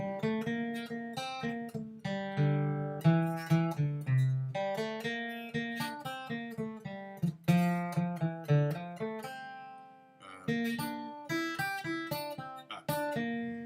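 Clean guitar playing a melodic line of single plucked notes and short phrases in G Dorian, steady and close, with no voices.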